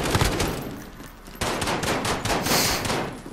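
Rapid gunfire crackles in a shooter video game match, dense bursts of shots layered with game noise, loud and continuous with no speech.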